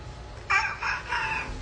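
A human voice imitates a rabid rooster crowing at a mimicry show, giving a strained, drawn-out crow in three linked bursts, faint and alone over low background rumble.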